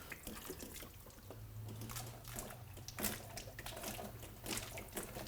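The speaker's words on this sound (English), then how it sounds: "I always like to wash this hood here without making a big mess." Water rinses the inside of a hood during a soft-rinse wash and stays contained in the unit. It makes a steady, quiet trickle and splash with faint drips throughout, and nobody speaks.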